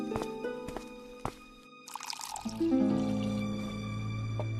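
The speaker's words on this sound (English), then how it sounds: "His hands shook as he poured the tea." Tea poured into a cup makes a steady liquid stream that begins halfway through and runs to the end, following a few light drips, with sustained musical tones underneath.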